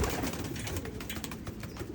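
Domestic pigeons kept for free flight coo softly and continuously, low murmuring calls close by over a noisy background.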